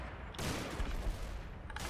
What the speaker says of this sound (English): That sounded like an explosion of some description.